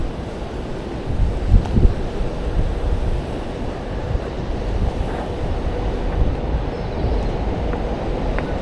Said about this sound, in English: Sorry if it's windy up here.